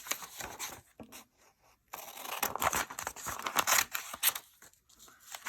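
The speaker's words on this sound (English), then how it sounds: "And then I want to cut the end off here." Scissors cut through folded paper in short snipping bursts with crinkles and scraping in between, close by and moderately loud, with a quiet pause early on and no one talking.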